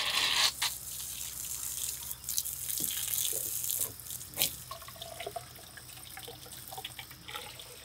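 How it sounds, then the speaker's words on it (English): Water siphoned down through a hose splashes and trickles into a bucket as it fills, a steady close gurgling stream with occasional louder splashes and knocks. "I'm going to attempt to create a vacuum, bring the water down into here, and fill it up."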